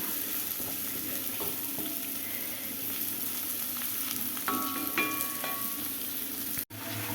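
Eggs are stirred and scrambled in a hot pan, giving a steady close sizzle with scraping stirs and small clicks, without talk.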